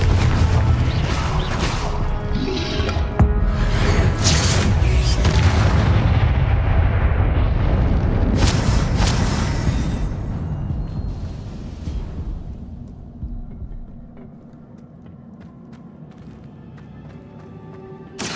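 Confringo fire-spell blasts from the Hogwarts Legacy video game, a dense run of booming explosions and impacts over a continuous game soundscape that thins and quiets toward the end.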